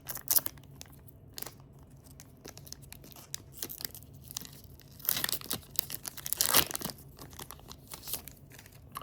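A Yu-Gi-Oh power-up card pack is torn open by hand, with a series of sharp, close foil tearing and crinkling bursts, the loudest rips coming near the end, separated by quieter rustling.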